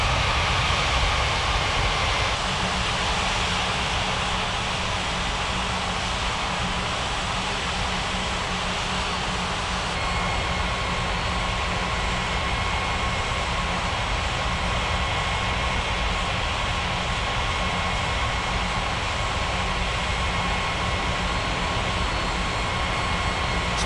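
An airliner takes off in an airport traffic-control video game at Springbrook on runway 05, a steady loud jet engine roar with a constant hum that holds throughout, with no talking.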